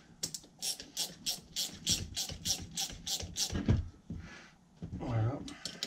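A 16 mm wrench ratchets on a Bosch CP1 H3 high-pressure diesel injection pump, giving a rapid series of about a dozen close, crisp clicks, then a few scrapes of metal on metal and a brief voice.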